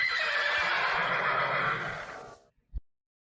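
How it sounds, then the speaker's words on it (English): A skeleton horse in the Minecraft video game whinnies in one long, loud, shrill neigh that fades out, followed by a short thump. "one of these skelly horses behind me needs to be named Frau Blücher."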